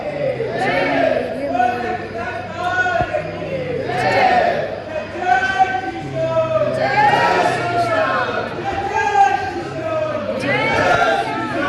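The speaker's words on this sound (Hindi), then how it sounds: "भीड़ हो रही है, मुझे लगा था कि भीड़ नहीं होगी लेकिन भीड़ है" A dense crowd of worshippers at Khatu Shyam temple in Rajasthan during darshan, with many voices calling and chanting over one another in a constant, loud babble that swells and dips without pause.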